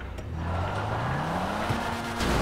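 A small Alto hatchback in a parkour racing video game runs a steady engine drone that climbs in pitch as it speeds up, with a brief shift partway through, loud and continuous with no talk.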